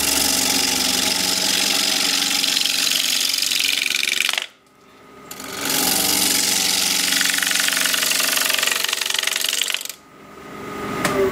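A wood lathe spins a thin natural edge bowl at around 1400 rpm, giving a loud, steady machine drone that cuts out abruptly twice and spins back up, with no talk.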